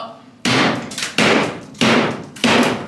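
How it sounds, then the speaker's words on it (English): A hammer strikes kitchen cabinets during a house flip renovation, landing four loud, evenly spaced thuds that each ring out and fade before the next blow. "we're just going to have to hit it with the hammer"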